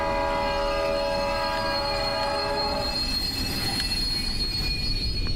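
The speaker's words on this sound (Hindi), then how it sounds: "ट्रेन अपने आप रुक गई क्या?" A train coming to a halt in a Japanese horror video game, with loud, sustained metallic wheel squeal and tonal screeching that fades out midway into a continuous rumbling rail noise.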